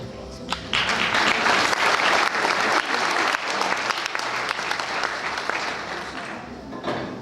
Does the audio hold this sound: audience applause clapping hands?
yes